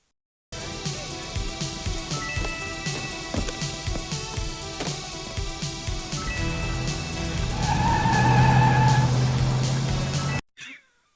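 A car from a played movie scene skids, a squealing tire screech building over a rumbling engine and repeated clattering impacts, loud and swelling toward the end before cutting off abruptly.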